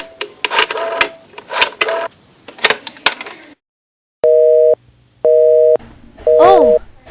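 Three identical electronic telephone tones beep in an even rhythm after a stretch of shuffling and rattling handling noise.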